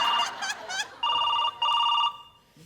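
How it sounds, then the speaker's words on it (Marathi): A telephone ringing in a busy comedy-sketch restaurant scene: bright electronic ringtone bursts, first warbling quickly, then two sustained loud tone pulses with a short gap, fading out at the end. "का सारखा सारखा फोन करतेस?"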